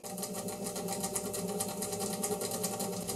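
A MAXNC mini mill runs on 3D printed plastic pulleys, giving a steady whirring motor drone with a fast, even pulsing rattle throughout, moderately loud and with no voices.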